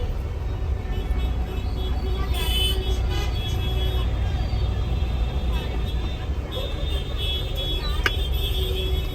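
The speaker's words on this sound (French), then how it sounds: "ça klaxonne toujours autant" Car horns toot now and then through loud, continuous Indian road traffic, with engine rumble underneath and a voice talking over the noise.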